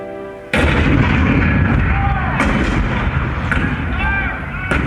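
Cannon fire from an April 1861 Fort Sumter battle scene in a theme-park presidential show: a loud, sustained roar of booming artillery that starts abruptly and carries on with repeated heavy blasts and whistling shells overhead.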